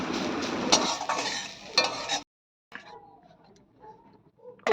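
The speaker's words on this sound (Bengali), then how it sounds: "মা একটু বাঁধাকপিটা ভেজে নিচ্ছে" Cabbage frying in a pan, with a spatula stirring, scraping and clattering loudly for about two seconds, then a short silence followed by a faint, low sizzle.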